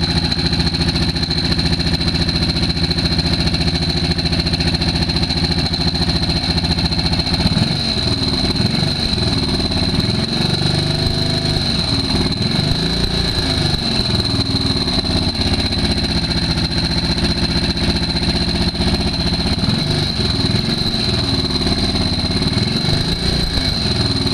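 A BSA B50 Gold Star motorcycle engine idles steadily and loudly throughout, a constant low rumble with a sustained whine above it and no voices.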